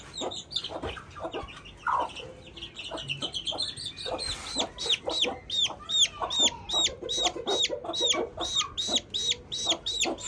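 A rooster clucks in quick, repeated bursts that grow steadier and more rhythmic, close and fairly loud, with no voices.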